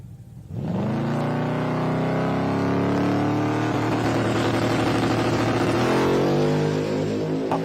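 A drag racing car launches and makes a full pass, its engine rising to a loud, sustained roar from a near-silent start.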